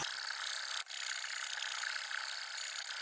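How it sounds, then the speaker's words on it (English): Hand file rasping out the ports of a Mk1 Ford Fiesta intake manifold, a continuous close scraping with a brief pause partway through, steady and moderately loud. "So I'll crack on with the filing"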